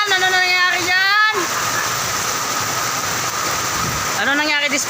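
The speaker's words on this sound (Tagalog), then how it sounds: "grabe kalakas ang ulan" Heavy rain pours down in a dense, steady hiss, with a voice speaking over it at the start and again near the end.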